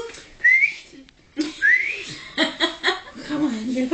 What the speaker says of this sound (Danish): jeg bliver altså nødt til at fløjte efter en hjælper